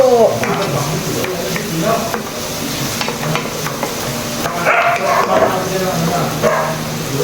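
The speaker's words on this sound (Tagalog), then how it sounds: "magigisa na ako ng aking puso" Chopped banana heart sautéed in a home kitchen pan, a steady sizzle with stirring scrapes and clinks, while people talk throughout and a small dog yips in the background.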